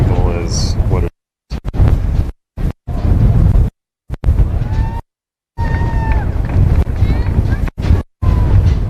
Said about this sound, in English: the wind here is pretty terrible